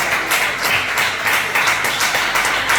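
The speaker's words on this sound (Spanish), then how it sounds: "Dale un fuerte aplauso al Señor." A church congregation claps loudly and steadily in a dense, rhythmic wash of many hands that continues without pause and without any voices.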